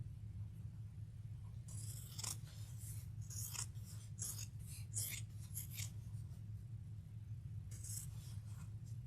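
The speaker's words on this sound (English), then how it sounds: "I'm going to cut at an angle, just like that" Scissors snip through fabric at an angle close to a stitch line while sewing, a run of crisp, close cuts in uneven rhythm over a steady low hum.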